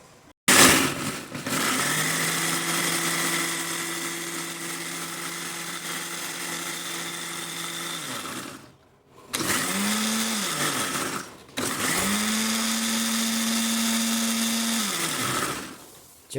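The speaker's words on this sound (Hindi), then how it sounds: "तो अब इसको चलिए पीसते हैं।" A mixer grinder grinding ingredients into a fine paste for rice-flour momos, three loud whirring runs separated by short pauses, the motor pitch settling and then winding down at the end of each burst.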